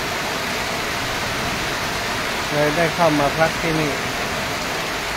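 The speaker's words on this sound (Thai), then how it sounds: "ก็มาเจอสภาพฝนตกแบบนี้ฝนตกหนักมากเลย" Heavy rain pouring down near Nam Nao district, a dense, steady hiss throughout, with someone speaking briefly partway through.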